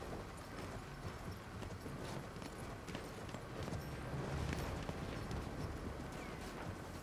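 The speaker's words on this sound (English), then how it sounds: "How much stamina does the horse have?" In the video game Battlefield 1, a horse gallops with a steady, rapid clip-clop of hooves that continues the whole time, faint and buried in a rumbling battlefield wash.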